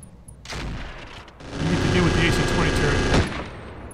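Mech weapon fire in a Roguetech BattleTech battle: a sharp burst opens, followed by a long sustained roaring barrage of rapid shots lasting about two seconds, loud and close, with a trailing rumble.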